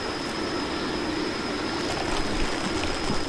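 A waterfall in Lego Batman 2 pours with a loud, unbroken rush close by, a faint steady tone running beneath the roar and no voices.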